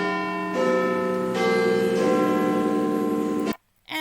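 Big Ben, the great bell in London, rings the hour. Three or four resonant strikes arrive about a second apart, each hum overlapping the last, until the sound cuts off abruptly.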